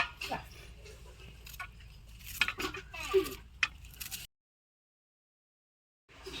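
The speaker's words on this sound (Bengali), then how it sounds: "এই যে পেঁয়াজ চিকেন রান্নার জন্য পেঁয়াজগুলো কেটে নিচ্ছি এক এক করে।" A knife cutting onions for chicken curry, several close irregular chops and clicks on a board, followed by a stretch of silence and a faint return of sound.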